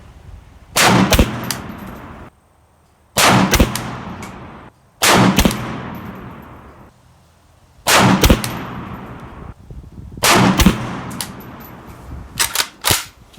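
Five loud, sharp rifle shots from a PSA AK-P 7.62x39 fired at an outdoor range, spaced roughly two to three seconds apart, each with a ringing echo trailing off, followed by a few quieter knocks near the end.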